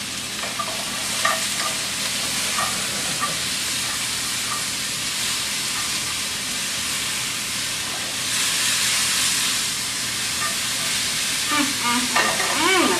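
A tablespoon of garlic sizzles loudly in a hot pan for mushroom flatbread, a continuous close hiss of frying with occasional stirring scrapes, swelling briefly louder partway through.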